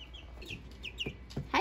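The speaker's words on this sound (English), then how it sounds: "There's chickens loose in my house." Young Easter Egger chicks loose inside a house give several quick, bright peeping chirps close by, with a sharper louder call at the end.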